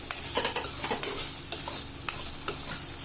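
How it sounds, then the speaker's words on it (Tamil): Okra sizzles in a hot pan for okra rice while a spatula scrapes and stirs in quick, repeated strokes, close and steady, with no voices. "நல்லா வதக்கிட்டே இருந்தோம்னா"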